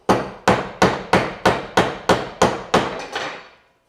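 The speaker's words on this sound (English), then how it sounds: "We'll get the mallet." A mallet chops a white pine dovetail, driving a chisel into the knife line in nine or ten sharp, evenly spaced strikes, close and loud, each blow ringing briefly before the next, with the final hit softer.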